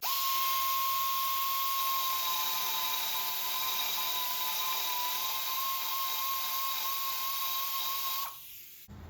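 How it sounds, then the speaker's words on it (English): A small air-powered abrasive tool strips paint from a steel brake line mounting point on a car before welding a clip on, giving a steady, loud, high-pitched whine that runs for about eight seconds and then cuts off. "So let's get some paint removed from here and weld this clip on."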